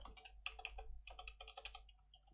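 Someone types on a computer keyboard while entering a commit description, a quick close run of key clicks in short bursts with brief pauses and no speech.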